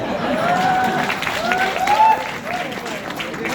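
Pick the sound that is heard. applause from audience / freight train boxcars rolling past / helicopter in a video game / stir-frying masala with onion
applause from audience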